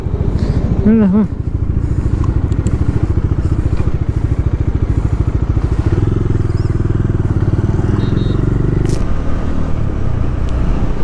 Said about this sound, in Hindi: ओ बाइकर सब जा रहे हैं।